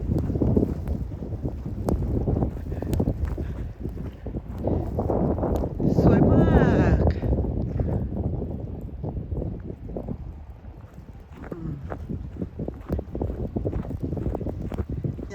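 Strong wind roars and buffets the microphone during a heavy snowstorm on a morning walk through Skövde, Sweden, surging loudest around the middle while a person talks over it.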